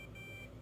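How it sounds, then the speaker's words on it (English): A CADD infusion pump sounds a brief, faint electronic alarm tone, a steady high beep lasting under a second against a quiet hum. "You will also hear two-tone beeps."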